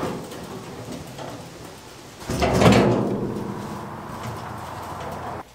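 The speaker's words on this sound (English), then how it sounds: "So we designed this little trap door here to be able to sweep the coop out straight into the wheelbarrow." A wooden trap door on a chicken coop swings open with a sudden loud scraping thud, followed by a lingering rumbling rattle before it goes quiet.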